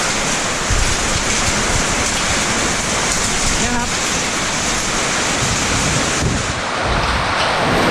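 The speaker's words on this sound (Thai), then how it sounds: "ตอนนี้ฝนตกนะครับแรงมาก" Heavy rain pours around a house, a dense continuous hiss with gusty wind, loud and steady throughout, while someone speaks briefly over it.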